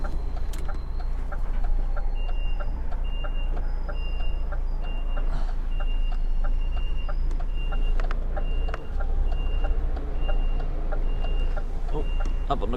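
Truck with trailer reversing, repeated high electronic reversing beeps in a steady rhythm over a low idling engine rumble, continuous and fairly close with no talk.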